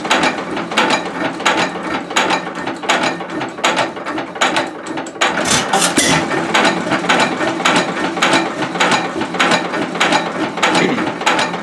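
An antique Stover stationary gas engine runs close by, giving a loud, rapid, regular mechanical clatter of firing and gear noise that holds steady throughout.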